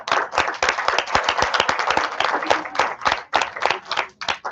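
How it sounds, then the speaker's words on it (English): A room of people at a school Martin Luther King Day celebration claps for the presenters, a dense, steady burst of many hands close by that runs the whole time, with only faint voices under it. "also deserve a round of applause."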